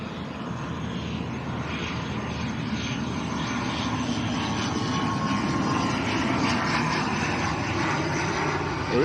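A Binter airliner on final approach at Lanzarote Arrecife airport gives a continuous, even engine roar that builds slightly over several seconds and dominates the scene.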